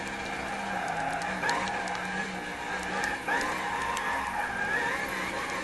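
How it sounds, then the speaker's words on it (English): Tires skid and squeal continuously as a street-legal GT car drifts around a race track, with a sustained engine roar and rising and falling screeches throughout. "I'm basically drifting half of the time"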